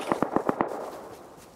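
Five quick sharp gunshots crack in an evenly spaced burst in a multiplayer shooter, fairly close, and the last one trails off into quiet background noise.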